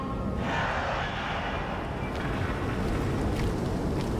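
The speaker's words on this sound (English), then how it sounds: "The wind rushing out, leaves rustling. You hear metal creaking from the gates nearby." Steady wind rushes through a dark outdoor scene in the video game Silent Hill 2, a continuous broadband roar with a faint rustle of leaves and occasional thin metallic creaks from nearby gates, no voices.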